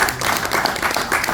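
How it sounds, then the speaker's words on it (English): Short burst of audience clapping at a small indoor gathering in a museum, a quick patter of hands lasting just over a second. "Round of applause for that."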